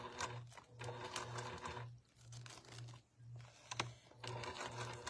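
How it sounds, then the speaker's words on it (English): A sewing machine stitches in reverse through clear vinyl, its needle motor humming in short regular pulses with brief pauses between runs, close and fairly quiet. "Kind of my way of doing a reverse stitch here."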